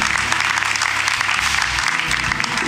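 A church congregation applauds during a worship service, a loud, dense wash of clapping with some crowd murmur running throughout, steady and close.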